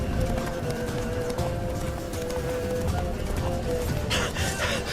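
Hooves clip-clop in a steady running rhythm as a horse gallops in the Witcher 3 video game, with a snort or whinny near the end, all under a continuous game soundscape.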